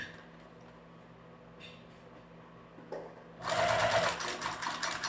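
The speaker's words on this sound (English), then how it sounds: "I don't want to get too happy and start sewing too fast and make the thread break." A sewing machine stitches thin thread through several layers of fabric for a homemade Christmas gift, starting with a few quiet clicks and then running in a steady, close mechanical whir.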